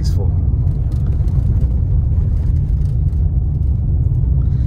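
Cars drive through a blizzard on a snowy road, their engines and tyres making a dense, steady low rumble close by; a voice talks briefly over the noise near the start.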